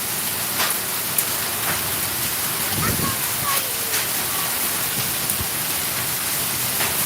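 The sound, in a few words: heavy rain falling at night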